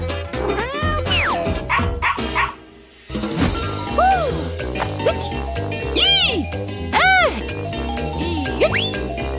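A cartoon dog barks and yips repeatedly in lively bursts over jingling, bouncy background music, the barks rising and falling in pitch at close range.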